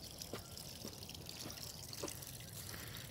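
Water trickles and splashes steadily down a small backyard waterfall feature built into an RC crawler course, a soft, continuous flow with faint drips, heard alone.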